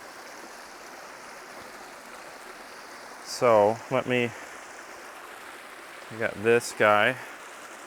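Steady broadband rush of water from a small creek waterfall runs through the whole stretch, moderately close, while someone speaks briefly twice over it.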